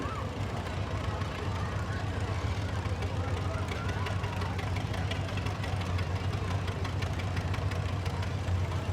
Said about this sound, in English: enjoy a little view of our members and their decorated tractors